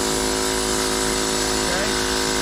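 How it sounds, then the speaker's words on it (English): A steel chisel driven by a pneumatic air hose works a stone carving's background in a last pass, a steady continuous buzzing hammer at close range, loud and unbroken with no pauses. "then I'm going to do one last pass with this chisel"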